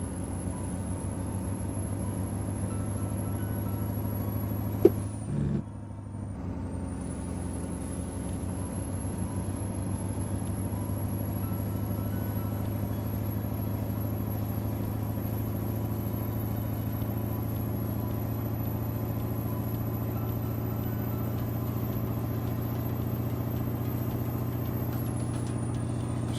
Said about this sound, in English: Engine's far too loud.